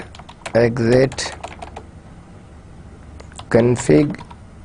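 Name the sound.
typing commands on a computer keyboard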